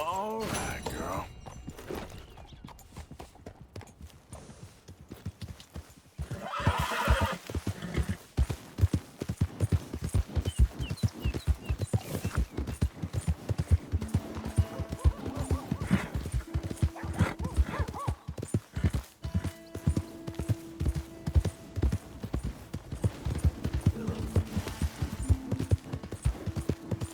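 A horse in the video game Red Dead Redemption 2 trots with steady rhythmic hoof clip-clops and gives a neigh, in a game scene that also has speech, background music and ambient sound.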